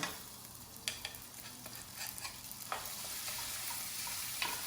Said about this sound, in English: then you're going to add your strained farro to your pan.